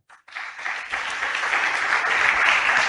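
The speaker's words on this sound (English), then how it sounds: "So please, a round of applause." Workshop audience applause at a digital health session, starting after a brief pause and building into sustained, even clapping that grows slightly louder toward the end.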